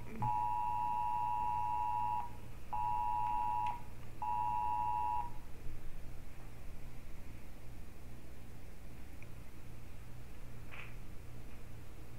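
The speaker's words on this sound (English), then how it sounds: "ignore my phone. There's an Amber Alert coming up." An Amber Alert tone on a phone plays as three steady, loud beeps, the first long and the next two shorter with brief gaps between them, over a constant low hum, then stops and leaves only the background noise.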